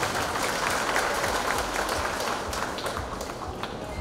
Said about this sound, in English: Let us give our candidates a big round of applause